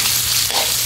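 Pork larb ingredients with fresh offal stir-frying in a pan, Thai Lom style, giving a steady close sizzle that runs unbroken, with a soft scrape of stirring partway through.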